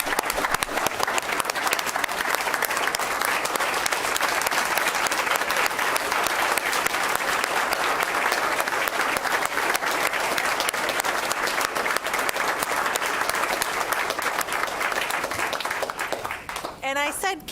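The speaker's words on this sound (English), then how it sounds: "let's give these kids another round of applause." Steady applause from an audience fills a board meeting room as students are recognized, a dense, even clapping that holds for the whole stretch before tapering at the end.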